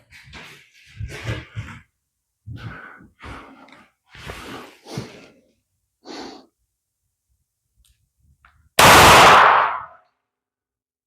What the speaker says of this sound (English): It went off. Where'd that last shot go?